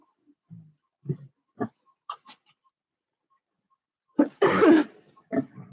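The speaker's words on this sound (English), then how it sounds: "my cough just scared them" Several short, sharp coughs scattered across a quiet background, followed by a louder, harsher burst and one last cough, close by.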